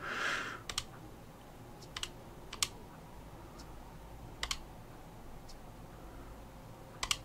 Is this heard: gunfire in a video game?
no